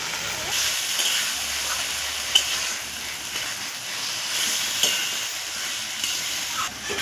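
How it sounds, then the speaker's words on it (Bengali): Spices with Kashmiri chilli and salt fry in oil, making a steady soft sizzle close by, with a few faint clicks of stirring over the hiss. "মশলাটা একটু ভাজা হয়ে গেছে"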